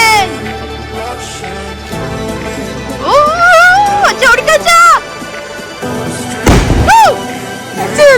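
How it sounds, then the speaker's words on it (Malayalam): Loud aerial firework shell bursts boom and crackle at a New Year celebration, with whistling rising tones, while people talk and exclaim over them. "അമിട്ട്"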